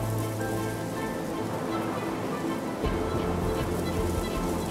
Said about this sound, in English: Strong winds, heavy rain, and snowstorms sweep across the country.